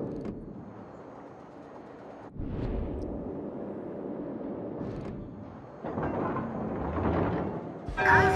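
Warship guns firing in World of Warships, with the Brandenburg battleship in play: heavy booming salvos that roll into long rumbling tails, several blasts in turn, growing louder near the end, with a voice faintly under the din.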